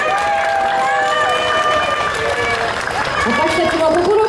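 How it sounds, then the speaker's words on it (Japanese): Outdoor street rally crowd applauding, clapping blended with cheering and voices, steady and fairly loud throughout. "皆さんよかったら大きな拍手を送ってください。"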